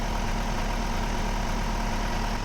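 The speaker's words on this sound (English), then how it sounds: "So it's now running. I'm just going to let the diesel rotate round the engine." A Ford Transit Custom 2.0 TDCi diesel engine idles steadily after a service, a constant close mechanical drone with faint knocking texture and no talking.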